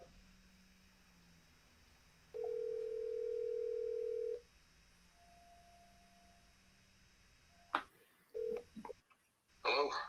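A telephone call being placed: a steady dial tone, then a short series of touch-tone dialing beeps, followed by clicks and brief tones as the call drops to voicemail, with no talking.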